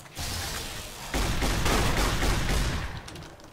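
A shotgun fires in the video game Fallout: New Vegas (Lonesome Road), with loud, dense blasts and rumbling echo that fill a few seconds before fading away, with no voices over it.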